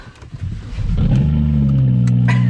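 A big-turbo BMW 335 engine starts and climbs into a loud, steady rev, a deep rumbling tractor-like drone close by with a few faint clicks.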